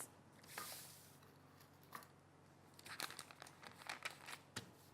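Paper crinkling and rustling as a skirt pattern sheet is handled and cut, with soft scattered crackles and a denser burst of crumpling sounds toward the end, fairly faint and close.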